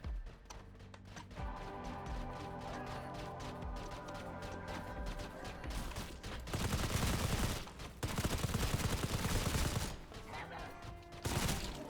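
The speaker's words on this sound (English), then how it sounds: "The way we can move with this machine gun is honestly absurd." Rapid machine gun fire from the video game Sulfer rattles in long, loud bursts over a pulsing game soundtrack, with brief pauses between volleys.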